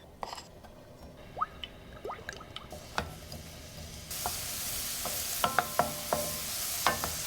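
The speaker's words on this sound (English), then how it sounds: "We let the onions give out their juices softly without browning them until they are translucent." Chopped onion softening in extra virgin olive oil and butter in a pan gives a quiet sizzle that grows into a steady hiss, broken by soft scrapes and taps of stirring.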